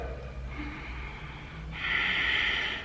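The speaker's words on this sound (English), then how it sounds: "when you do an Ujjayi breath, you contract the back of your throat" An ujjayi yoga breath drawn through a contracted throat, starting as a soft hiss and swelling into a louder, ocean-like rasp before easing off.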